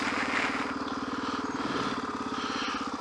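A big motorcycle engine runs with a steady, rapid pulsing drone, loud and continuous for a few seconds without letup.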